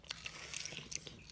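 A person bites into a piece of watermelon, giving faint, close, wet crunching and squelching bites in a few quick bursts against a quiet background.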